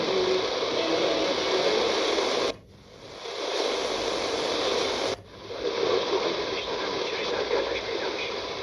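A SIHUADON R-108 pocket radio on the AM band hisses with broadband static as a station comes through, the noise dropping out briefly twice before returning steady and loud.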